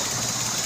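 Suzuki Cultus car engine with a carburetor idling low at around 700–800 RPM, a steady close hum with a faint rough pulse, alone and with no talk.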